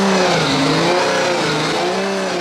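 A Formula D drift car engine runs at a steady idle, its revs wavering slightly and loud and close throughout.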